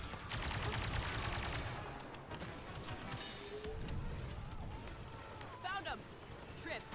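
Cover fire in a Star Wars Battlefront 2 campaign battle: bursts of blaster gunfire crackle for the first seconds, then trail off into a busy mix of combat noise with sharp chirps near the end, no speech over it.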